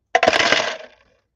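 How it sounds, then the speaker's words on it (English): A bunch of steel pennies dropping together, a bright metallic jingling clatter of many coins that rings for under a second and fades out, close and alone. "that was the sound of a bunch of steel pennies"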